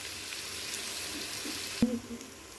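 Onions and green chillies fry in a pan while being stirred, a steady soft sizzle running throughout with a sharp knock of the utensil near the end.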